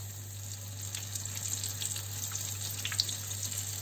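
Battered apple fritters are lowered into hot oil and fry with a steady, close crackling sizzle over a low electrical hum, with small pops scattered throughout.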